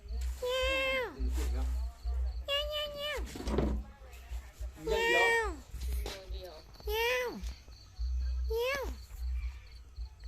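A cat meows hoarsely about five times in a slow, evenly spaced series, each cry rising then falling, over a low background hum.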